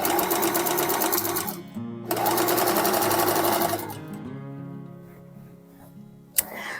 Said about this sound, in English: it's just not a sociable thing to run the sewing machine